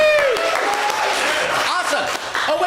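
A live improv audience bursts into loud, sustained applause mixed with whoops and cheering, with excited voices shouting over the clapping throughout.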